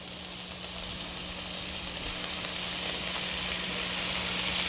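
White rice and mixed vegetables frying in a pan, a dense continuous hiss and sizzle with a low steady hum beneath, close and slowly growing louder, no voices.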